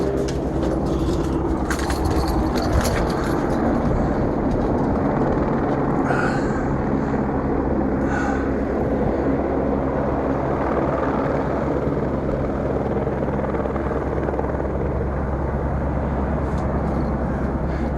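A helicopter hovers close by, its engine and rotor wash forming a loud, unbroken drone that holds steady for the full stretch.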